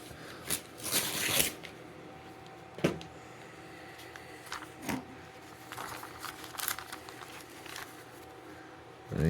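A knife blade slicing through telephone book paper, giving several sharp close swishing cuts and papery rustles at irregular intervals, with short quiet gaps between strokes.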